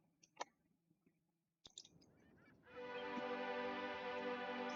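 Seagull calls ring out in a song, starting with a few sparse clicks and knocks and then turning into a dense, sustained wash of bird cries that continues to the end.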